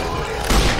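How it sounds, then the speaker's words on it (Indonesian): A bomb explodes in the Roblox zombie survival game Those Who Remain, a brief deep thud and boom rising out of dense, noisy game sound. "Meledak. Bom."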